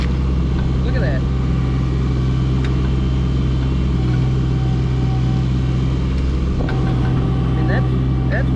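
A SANY SY16 mini excavator runs at a steady low hum while swinging its upper body, with faint whines and clanks over the engine drone and a voice talking throughout.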